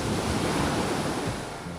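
Ocean surf rolls onto a beach in Zambales, Philippines, a loud continuous wash of waves mixed with wind rumble on the microphone, heard close with no voices.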